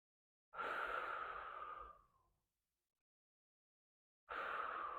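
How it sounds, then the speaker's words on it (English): During a lower-body cool-down stretch, one long, deep, close exhale rushes out and fades away, followed by silence before the next audible breath begins. "3 more breaths here."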